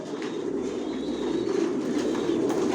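Racing pigeons of the Janssen line cooing in a loft, a soft continuous murmur of several birds' low throaty calls nearby, with no talk.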